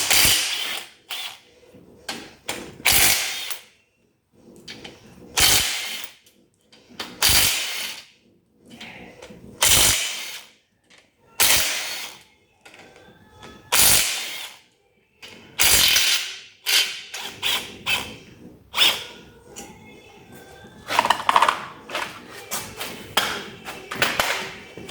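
Hand tools working on the rear differential plate of an Opel Manta i240 in a garage, a close series of sharp ratcheting clicks and metallic knocks in irregular bursts separated by short pauses.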